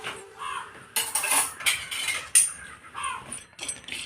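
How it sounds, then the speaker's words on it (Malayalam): Whole spices, including black pepper, cinnamon and cardamom, are dry-roasted in a pan for chicken biryani and stirred with a utensil, giving repeated close metallic scraping and rattling in short bursts. "അപ്പോൾ ഇതൊന്ന് വറുത്ത് പൊടിച്ചെടുക്കണം."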